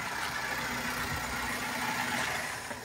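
A car engine runs steadily at close range with a continuous idling rumble, no distinct cranking bursts standing out, on a car that had stalled from a poor ground connection and a drained battery.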